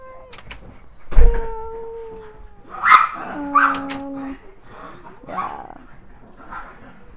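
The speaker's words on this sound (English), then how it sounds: "My dogs are playing." Dogs playing indoors, with a heavy thump, short yips and whimpering whines over a low background, while a person briefly speaks nearby.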